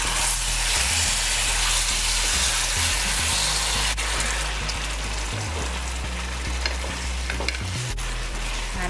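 Fish cooking in a pot with tamarind sour and bhaji greens, a loud, continuous close-up bubbling sizzle with occasional stirring clinks, no talk.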